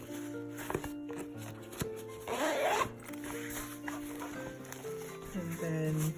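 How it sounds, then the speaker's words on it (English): Small mesh half zip on a Hobonichi Techo planner cover being opened, a short raspy zipper pull among soft handling rustles and taps, with a voice talking faintly underneath. "There's a zipped area in the front. Just small mesh half zip."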